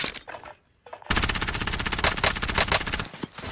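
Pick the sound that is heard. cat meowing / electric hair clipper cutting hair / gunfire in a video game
gunfire in a video game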